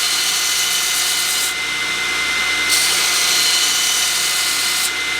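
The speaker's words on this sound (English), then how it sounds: "I'll show you how I'm grinding" A 2x72 blacksmith belt grinder running on a 10-inch contact wheel grinds a piece held on a bolt. The grinding gives a loud, steady, bright rasping whine that swells and eases in waves as the workpiece presses on the belt, with no talk.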